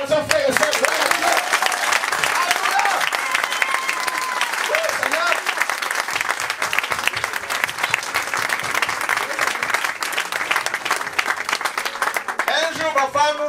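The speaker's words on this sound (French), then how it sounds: "il mérite des acclamations" A church congregation bursts into sustained applause and cheering, a dense wash of many hands clapping that holds steady and loud throughout, with voices rising within the crowd.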